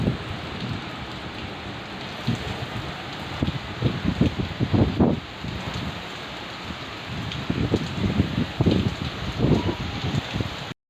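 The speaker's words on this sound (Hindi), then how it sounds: "साथ ही इतनी तेज़ बारिश शुरू हो गई ना" Heavy rain pouring down steadily, a loud dense hiss with close pattering splashes and heavier gusts, no voices.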